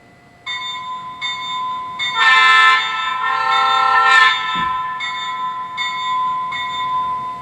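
A model Alco PA locomotive in Texas Special livery sounds its horn in several short blasts and one long sustained blast, with the bell ringing steadily throughout, loud and close.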